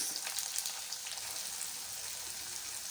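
Garlic, onion and chilli fry in a pan with a steady, close, crackling sizzle that runs unbroken throughout, with faint stirring scrapes and no talk.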